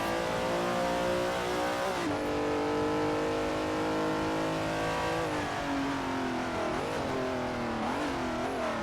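Race cars accelerating in a racing simulator game at Road Atlanta, a steady loud engine drone climbing and dropping in pitch through gear changes, with several cars revving together and no talk.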